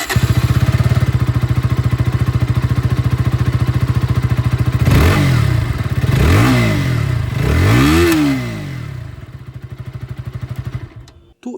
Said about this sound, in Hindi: यहीं से जो एग्जॉस्ट साउंड है ये मैं आप लोग को सुना देता हूँ